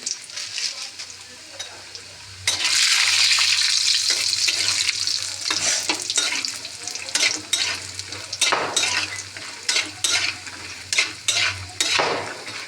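Bori, small lentil dumplings, sizzle in hot oil in a wok, with a steady frying hiss broken by frequent scrapes and clinks of a stirring spatula against the pan.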